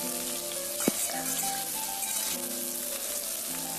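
Potatoes frying in a pan for a vegetarian dish made with leftover vegetable stems, giving a steady close sizzle with a brief clink of utensils near the start.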